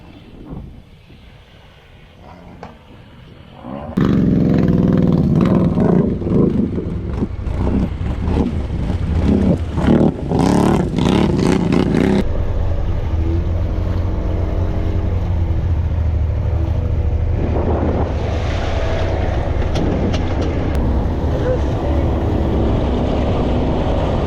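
Off-road vehicle on Aztex mud tires revving and spinning its wheels through deep mud holes at a grove, a loud steady engine roar with churning wheel noise that surges abruptly after a quieter start and continues without talk.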